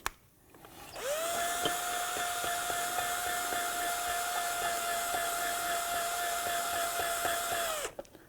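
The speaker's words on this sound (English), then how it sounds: "Use some parts cleaner, just be careful not to let it come up into your face." Aerosol parts cleaner blasts into the brake caliper slider ports of a 2007-17 Ford Expedition in one continuous, close, whistling hiss lasting about seven seconds, with no talking.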